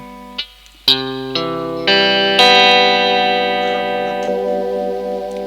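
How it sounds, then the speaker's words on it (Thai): Electric guitar notes and chords ring with a shimmering chorus effect from an old-model Super Chorus pedal, struck several times in a row and left to sustain, close and moderately loud. "นี่คือเสียงคลีนนะครับพอใส่คอรัสแล้วกลับหนาขึ้นด้วย"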